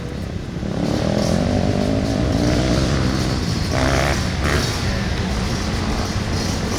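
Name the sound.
four-stroke dirt bike engine running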